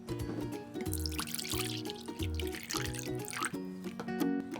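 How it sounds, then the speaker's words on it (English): Red liquid being poured for Jell-O in a kitchen: continuous splashing and trickling with scattered drips, set over low background music with no talking. "I'm gonna pour some of this red."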